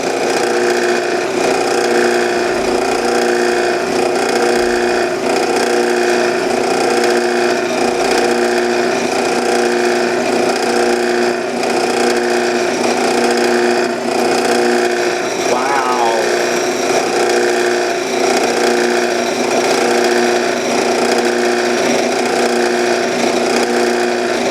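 A drill bit grinds into a hardened steel hand weight, a loud, continuous whining and rasping drone that holds steady for the whole stretch.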